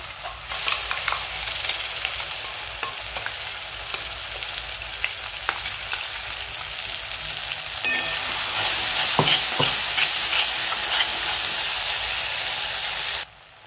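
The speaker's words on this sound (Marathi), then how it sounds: "यामध्येच मिक्सरला बारीक करून घेतलेला हा मसाला घालायचा।" Onion and tomato masala, ground in a mixer, sizzles as it is added to hot oil for tempering. A close, steady frying hiss is broken by occasional stirring scrapes and clicks, and it stops abruptly at the end. Nobody speaks.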